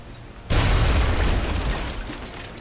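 A grenade goes off in XCOM Enemy Within as one sudden loud boom after a brief quiet moment, followed by a long rumbling roar that slowly fades, with no voices.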